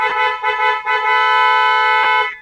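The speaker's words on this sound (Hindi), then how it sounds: "हमने इसके ऊपर हॉर्न यूज किया है" A loud, sustained dual-tone car horn fitted to a Maruti Suzuki Brezza LXi sounds in two blended tones, with a few short honks before one long continuous blast that stops abruptly.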